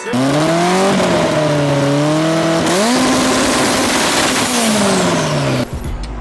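A Mustang engine holds high on a two-step launch limiter, a loud, continuous rasping drone that wavers in pitch, jumps higher midway, then cuts off abruptly near the end.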